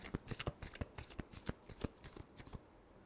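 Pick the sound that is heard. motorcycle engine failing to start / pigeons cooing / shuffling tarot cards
shuffling tarot cards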